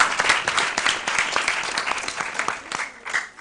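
An audience applauds the competing school teams at a basic-school quiz contest, a sustained, dense round of clapping that holds steady for the whole stretch without any talk over it.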